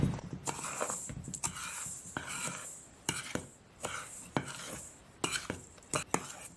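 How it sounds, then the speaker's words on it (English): Dry ingredients, flour, white sugar, baking powder and kosher salt, stirred in a bowl for corn bread, giving irregular clinks and scrapes of a utensil against the bowl with short pauses between strokes, close and fairly quiet. "2 tablespoons of baking powder, 2 teaspoons of kosher salt, and we will give that all a stir."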